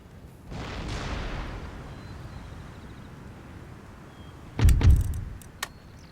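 Artillery guns fire during a battle in the strategy game Empire: Total War, a rumbling boom that fades early, then a louder sharp double blast near the end, with no speech.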